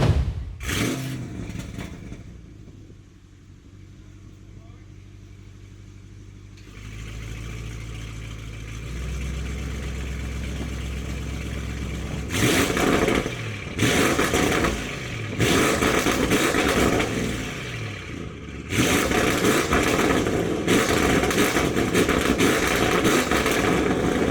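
The engine of a tuned 2025 Porsche Cayenne GT Turbo starts with a sharp flare, then settles into a low idle before louder blips and revs rise and fall, close and strong throughout.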